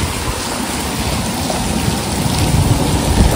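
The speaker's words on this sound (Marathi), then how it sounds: "आता पाऊस काय थांबत नाही" Heavy monsoon rain during a scooter ride near Igatpuri, a loud dense roar of rainfall and wind noise, continuous and close, swelling slightly toward the end with no talking.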